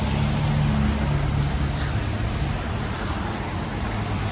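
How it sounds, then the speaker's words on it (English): Heavy rain pours steadily and loudly across the whole stretch, a dense continuous wash of drops drumming on surfaces near an NHRA drag racing venue, with a faint low rumble beneath. "It's really raining."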